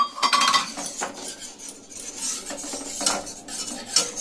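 A spoon stirs milk in a bowl, giving quick metallic clinks and scrapes against the sides in an uneven rhythm, close and fairly clear with no talking.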